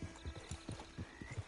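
Horse hooves clip-clopping in Red Dead Online, a steady run of paced hoofbeats close up, moderately quiet, with no talking over them.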